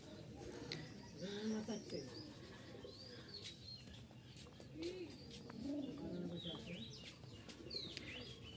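Giribaz pigeons coo repeatedly in low, throaty bursts at close range, with scattered chirps and a faint flutter of wings over a steady background murmur.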